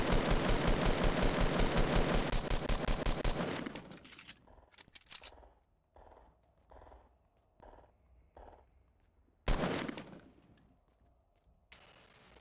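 Automatic gunfire in Fortnite rattles in a loud sustained burst, then gives way to scattered, fainter single shots and clicks spaced apart, with one more sharp loud shot near the end.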